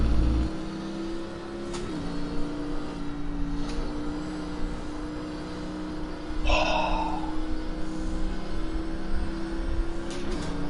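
Race car engine in a racing video game, heard from inside the car, holding a steady loud drone with a brief shift near two seconds and a rising surge at about six and a half seconds as the throttle opens.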